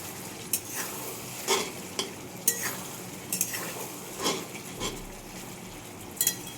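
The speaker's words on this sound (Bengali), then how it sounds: "ভালো করে কষাবো।" Green chili masala stirred and sautéed in a wok, with a soft sizzle under scattered spatula scrapes and clinks against the pan, fairly quiet and irregular.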